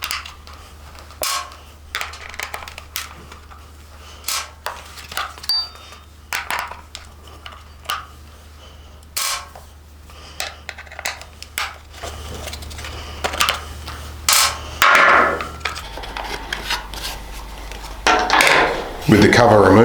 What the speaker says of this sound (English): We do that by removing the 4 screws with our Phillips head screwdriver.